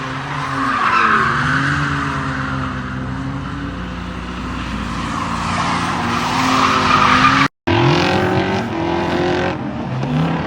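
A Lada Zhiguli drifting with a loud, sustained engine roar and squealing tires, close and continuous, the pitch rising and falling with the throttle, with one brief cut.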